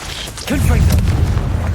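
The Confringo fire spell exploding in Hogwarts Legacy, a booming burst that swells after a brief pause and rumbles on with crackling debris, loud and close.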